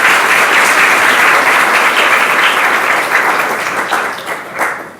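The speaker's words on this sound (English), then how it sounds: "Let's give them a round of applause for the good food we're going to have" Loud, sustained applause from a luncheon crowd, steady clapping that tapers slightly toward the end with a few louder bursts.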